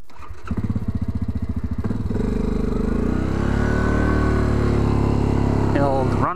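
A Yamaha Grizzly 700 ATV fitted with Camoplast Tatou T4S tracks rides through snow, its engine pulsing at first, then rising into a steady loud drone that keeps building in pitch.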